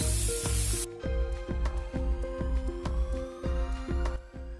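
Onion, curry leaves and tomato fry in a pan for an oyster mushroom gravy, a bright hiss at first that settles into steady sizzling under a run of sharp, rhythmic clicks and taps.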